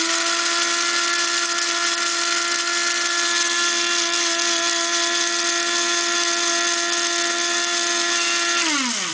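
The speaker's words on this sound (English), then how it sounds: "You want to grind it up." An electric grinder whirs at a steady high pitch while grinding cannabis, loud and close, running continuously before winding down at the very end, with no talking.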